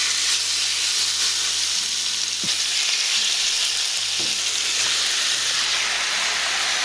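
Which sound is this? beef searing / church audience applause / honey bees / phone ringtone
beef searing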